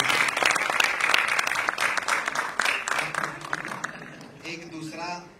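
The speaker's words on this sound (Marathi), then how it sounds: "जोरदार टाळ्या लागल्या." Audience at a Marathi film trailer launch event for Fussclass Dabhade breaks into loud sustained applause filling the hall, tapering off as a voice begins speaking near the end.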